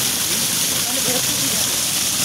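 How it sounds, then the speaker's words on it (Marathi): A flowing stream in Veermata Jijau Udyan (Ranichi Baug), a city garden in Byculla, Mumbai, a steady broadband rush of running water, close and continuous without breaks. "झरा बघा कसा वाहतोय."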